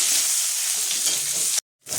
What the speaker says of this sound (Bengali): পেঁয়াজটা আমি হালকা লাল করে ভাজবো।